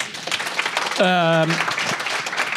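Conference audience at a startup pitch event clapping in a moderate, continuous patter, with a voice briefly calling out over it midway.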